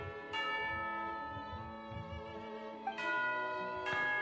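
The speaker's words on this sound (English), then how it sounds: "Yes, that's the signal for tea time." A tea-time bell rings in the video game Genshin Impact, three bright resonant strikes that each ring out and overlap with a low ambient music bed, no talking.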